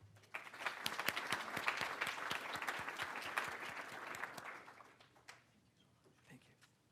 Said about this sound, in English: Let's give a round of applause for Dr. Lehmann